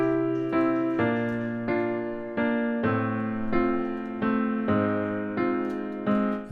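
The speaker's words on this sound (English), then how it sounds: "here's the piano just by itself" A solo piano plays a short quantized part with evenly spaced chords struck about every half second, each ringing and decaying before the next, clear and alone with no voices.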